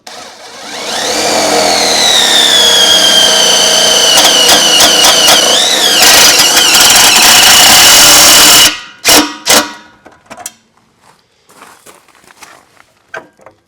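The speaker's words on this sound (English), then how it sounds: "I'm just going to put one metal self-tapping screw right here." A power driver sinks a metal self-tapping screw: a loud, steady whine that rises and strains for several seconds, then stops, followed by a few short clicks and knocks.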